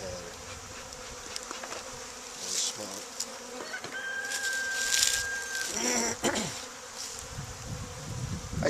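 Honeybees buzz steadily around an opened hive during a spring inspection, a close, continuous drone with individual bees swelling louder as they fly past, no voices heard.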